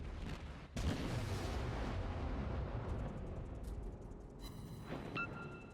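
A sharp, loud blast erupts, then a long rolling rumble, with further booms and metallic ringing later, as torpedoes strike a ship in the World of Warships video game.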